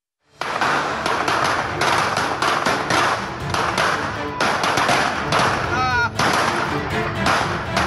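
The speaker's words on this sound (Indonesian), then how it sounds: "Aksi teror petasan dilakukan siang dan malam oleh caleg DPRD Kabupaten Subang, Ahmad Riza" Rapid bursts of loud firecracker bangs, crackling in dense irregular volleys with a few brief gaps, close and harsh, set off day and night in an Indonesian neighborhood.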